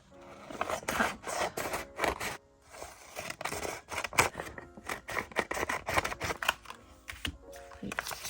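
Scissors snip through paper for a journal in a quick series of crisp, close cuts, irregular bursts of slicing clicks separated by short pauses.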